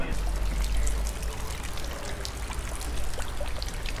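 A Spanish fountain splashes steadily and fairly close, a continuous broadband rush of falling water with low rumble, with no voices over it.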